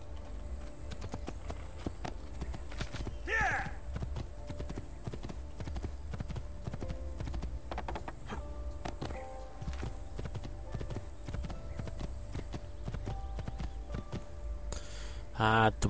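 In Assassin's Creed 2, a horse gallops with a quick, steady clip-clop of hooves on hard ground, quiet and continuous, with a brief whinny and occasional talk over it.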